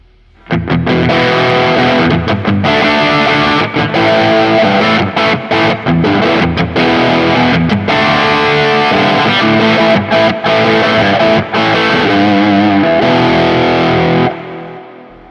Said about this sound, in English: this is a very loud overdrive pedal